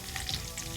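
Onions frying in oil, a continuous close, hissing sizzle with light crackle throughout a brief moment.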